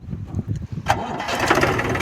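A tractor engine cranks and catches, rising into a steady mechanical roar after some brief low rumbling, loud and close.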